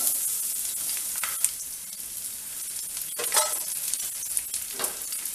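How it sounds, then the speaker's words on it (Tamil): Garlic hits hot oil for a spicy garlic podi and erupts into a steady, close crackling sizzle, with a few sharper pops and spatters rising out of the hiss. "இப்போ பூண்டை சேர்த்துக்குவோம்"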